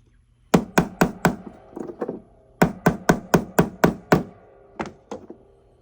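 A hammer taps sharply on a heavy silver skull ring in quick bursts, a run of four blows, a pause, then six more and a few lighter taps at the end, close and alone.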